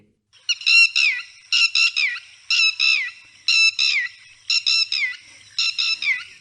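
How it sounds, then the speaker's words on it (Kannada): A red-wattled lapwing calls loudly and close by, six bursts of sharp, squawking notes in a steady rhythm with short pauses between, no other sound. "ರೆಡ್ ವೈಟಲ್ ಲ್ಯಾಪಿಂಗ್ ಅಥವಾ ತೇನೆ ಹಕ್ಕಿಯ ಒಂದು ಧ್ವನಿಯನ್ನು ಕೇಳಿಸ್ಕೊಳ್ಳಿ"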